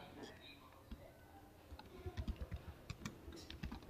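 Computer keyboard keys clatter in quick irregular bursts while HTML code is typed, quiet and close, with soft speech in the background.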